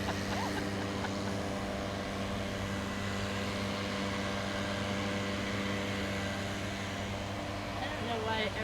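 A leaf blower runs nearby during an outdoor horse coaching session, a steady loud droning hum that fills the whole stretch without letting up.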